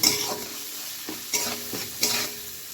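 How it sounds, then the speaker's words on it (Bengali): Spice paste with turmeric fries in a pan for a Bengali bottle gourd and bori curry, a steady soft sizzle broken by three scraping stirs of the spatula, close and alone with no voices. "এবার এই মশলাটা একটু কষিয়ে নেব"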